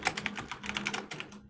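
Rapid typing on a computer keyboard, a quick irregular patter of key clicks running steadily for over a second, close and moderately loud with no talk over it.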